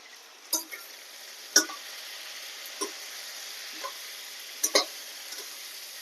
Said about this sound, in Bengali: ভালো করে একটু মশলাটাকে কষিয়ে নেব